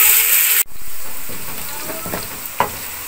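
Sliced onions sizzle steadily in hot oil as they brown for dhaba-style chicken kaleji, with a sharp crackle at the start and soft stirring scrapes and pops throughout, close up.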